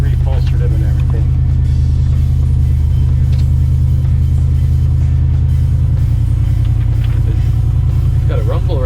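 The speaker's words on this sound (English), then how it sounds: "It's got a rumble right here." A Ford truck engine idles close by with a loud, steady low rumble that runs unbroken throughout, and faint voices can be heard over it.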